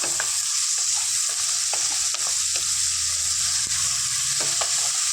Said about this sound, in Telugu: ఇవి వేసుకొని చక్కగా దొండకాయ మంచిగా ఫ్రై చేసుకుందాం